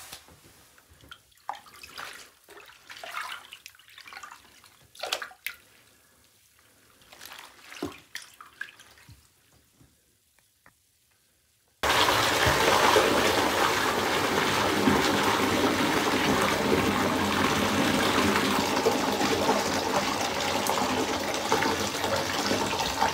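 Water running steadily from a tap during hand rinsing of laundry, a loud continuous gush that starts abruptly midway after a stretch of quiet scattered drips and handling sounds.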